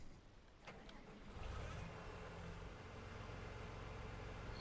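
A tractor engine in Farming Simulator cranks and catches, with a click and brief starter whine, then settles into a steady, loud low idle that holds until the end.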